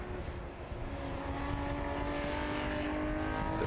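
Historic race cars roar around the Estoril circuit in a steady, dense engine drone that stays loud and unbroken throughout.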